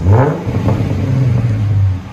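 A 2012 Ford Mustang 3.7L V6 with a Flowmaster Flow FX dual exhaust revs close by, a loud deep rumble that swells and holds before easing off, with no voices.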